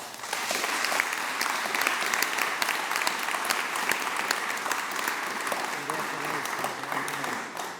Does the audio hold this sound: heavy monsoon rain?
no